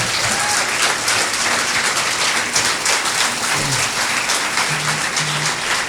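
Steady audience applause fills a room at an Oklahoma Senate District 21 candidate debate, a dense, even wash of many hands clapping that holds throughout with a faint low voice now and then underneath.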